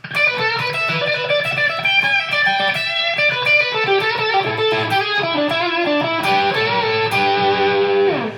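A loud, close distorted electric guitar through a Fender Mustang GTX100 amp with a British amp tone plays a melodic lead line with sustained, saturated notes and bends, alone without any voices.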